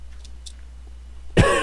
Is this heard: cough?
yes